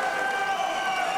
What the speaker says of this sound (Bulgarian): И заслужени аплодисменти за него.